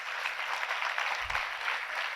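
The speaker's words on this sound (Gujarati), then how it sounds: "તાળી પાડો એના માટે જોરદાર." A seminar audience applauds steadily, with dense, even clapping held at a moderate, somewhat distant level throughout.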